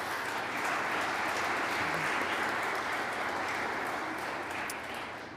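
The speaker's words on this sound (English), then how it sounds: "Let's give all of them a round of applause." A crowd at the Montgomery County, Pennsylvania kickoff celebrating America's 250th anniversary applauds: sustained, dense clapping at moderate distance that thins slightly toward the end.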